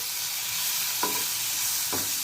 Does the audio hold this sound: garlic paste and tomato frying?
yes